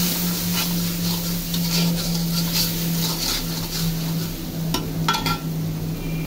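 Onion, tomato and spice paste sizzles steadily in a pan while being stirred, with a continuous frying hiss, occasional scraping of the utensil and a few sharp metallic clinks near the end.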